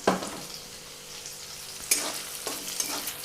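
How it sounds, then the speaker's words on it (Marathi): Green chilies fry in a pan for sabudana khichdi, giving a moderate sizzle broken by sharper bursts and scraping stirs, heard close with no speech. "मिरच्या सगळ्या भाजल्यात मी आता गॅस मोठा केला आहे अजून थोड्या मिरच्या भाजण्यासाठी"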